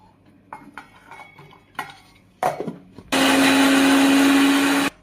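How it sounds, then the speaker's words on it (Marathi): A mixer grinder blitzing ginger, garlic and coriander into paste starts after a few clinks and knocks of the jar being handled, then roars loud and steady for about two seconds before stopping abruptly. "चला तर आपण सर्वात पहिल्यांदा आलं लसूण कोथिंबीर बारीक करून घेऊया"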